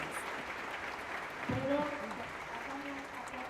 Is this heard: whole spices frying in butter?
no